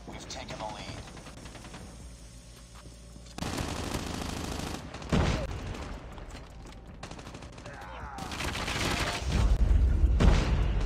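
Bursts of MSMC submachine gun fire in Call of Duty Mobile, loud and close, with rapid repeated shots in several bursts separated by brief lulls and a heavier, booming stretch near the end.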